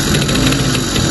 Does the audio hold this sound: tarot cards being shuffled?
no